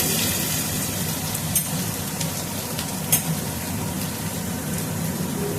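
Onion frying in a pan, the first step of a quick mutton recipe: a steady, close, loud sizzle that runs unbroken, with a couple of small clicks from stirring and no voices.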